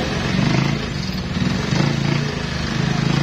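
A Yamaha Mio Soul 125 scooter that had stalled and lost compression revs its engine, a loud, close, buzzing drone that swells and dips a few times.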